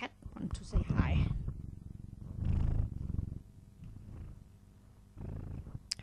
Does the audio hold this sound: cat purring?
yes